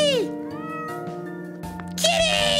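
A cat in the video game OneShot meows, with a high drawn-out call at the start and another rising meow near the end, over steady sustained background music.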